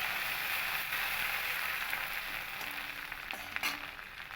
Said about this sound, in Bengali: আর আদাটা একটু ভেজে নেব